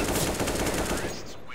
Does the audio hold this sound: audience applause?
no